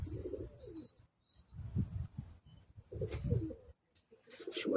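Iraqi pigeons kept in Australia give soft, repeated coos in short bursts separated by brief pauses, close and fairly quiet with no voices.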